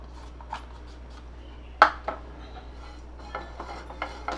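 Coconut being roasted in a pan while a spoon stirs it, faint scraping and light clinks against the metal, with one sharper knock partway through, heard without talk.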